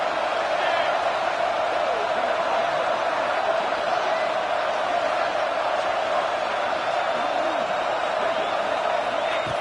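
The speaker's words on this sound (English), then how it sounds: "this home crowd is fired up and ready to make a difference" Home football crowd in a stadium early in the game, a steady loud roar of cheering and crowd noise that fills the whole span without a break.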